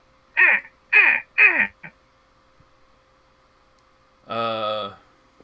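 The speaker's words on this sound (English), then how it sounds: "You begin hearing the crow starts cawing." A crow caws three times in quick succession, then gives a final harsh, drawn-out call after a pause, each caw loud and close, played as a sound effect during a tabletop role-playing session.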